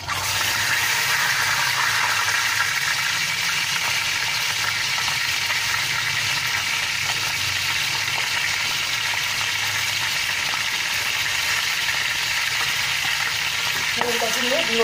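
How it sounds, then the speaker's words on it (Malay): Loud, continuous sizzling of chicken frying in hot oil, a dense crackling hiss that holds steady throughout with no talking. "Okey, nak goreng ayam."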